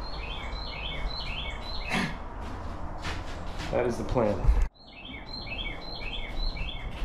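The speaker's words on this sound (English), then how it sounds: "I hear you, bird. I hear you." A bird outside a woodworking shop repeats a regular pattern of bright chirps throughout, with someone speaking briefly in the middle.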